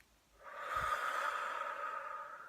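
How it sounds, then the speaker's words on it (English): A long, deep breath out during an EFT tapping relaxation exercise, heard as a steady, close, breathy rush that swells and holds for about two seconds, alone and without speech. "take a big deep breath"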